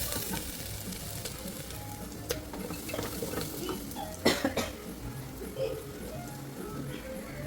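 Beef goes into a pan of fried onions and is stirred, giving a steady sizzle with scraping stirs and a few louder clatters, and a person coughs partway through.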